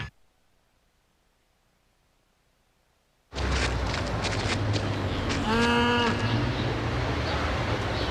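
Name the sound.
cows mooing in a TV advert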